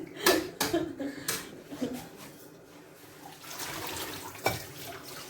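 Water pouring into a kitchen sink during dishwashing, a few splashy bursts and a steadier running flow with faint background voices.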